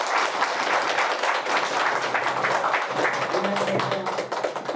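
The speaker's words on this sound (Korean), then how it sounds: "큰 박수 환영 부탁드립니다." A temple audience applauds steadily at a sisterhood ceremony between Buddhist temples. The clapping is dense and continuous, and a few faint voices show beneath it toward the end.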